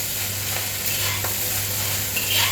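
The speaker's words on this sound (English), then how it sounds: "you hear the sizzling sound of the wok" A wok sizzles while Chinese fried rice with char siu barbecue pork and egg is stir-fried, a steady hiss broken by brief scraping stirs and a louder sizzle near the end, with no talk.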